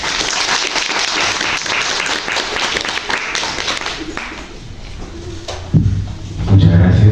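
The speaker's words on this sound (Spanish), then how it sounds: "Por favor, sus aplausos." Applause from an audience at a Spanish literature lecture, dense clapping filling the room for several seconds and tapering off, with a voice starting to speak near the end.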